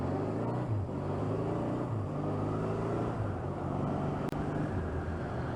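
A Suzuki GS 1000 motorcycle engine drones steadily on a night ride, a loud continuous hum with shifting pitch as it changes speed, close and unbroken for several seconds.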